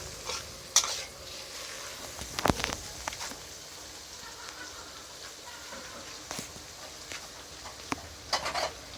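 Cucumber and egg being stir-fried in a pan, with a soft ongoing sizzle broken by occasional scraping strokes of a spatula, fairly quiet and close.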